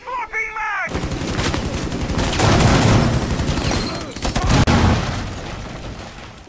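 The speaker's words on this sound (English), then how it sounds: "I think Pooh Fingers detonated the terrorist" In Rainbow Six Siege, a detonated charge goes off in a house during a terrorist hunt, a loud sustained roar of blast and gunfire-like crackle filling several seconds, with a brief voice at the start.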